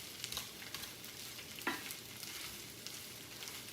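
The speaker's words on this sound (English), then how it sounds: "Just want to get the bacon mixed in and the onion." Bacon, onion and potatoes frying in a pan on medium-low heat while being stirred, giving a soft steady sizzle with a few light scraping touches, quiet and close.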